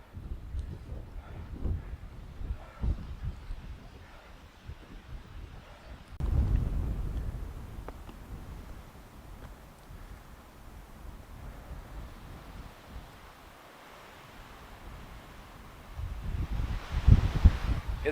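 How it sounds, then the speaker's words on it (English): Steady wind roars and buffets the microphone on a winter mountain summit in the White Mountains, with louder gusts surging in partway through and again near the end; no one speaks. "It's windy."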